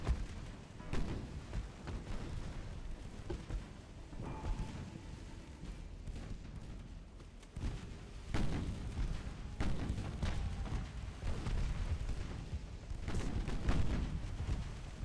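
Naval artillery fire from dreadnought-era warships of the Italian Regia Marina in Ultimate Admirals: Dreadnoughts, repeated deep booms and rumbling salvos scattered across a continuous battle din, fairly faint and distant.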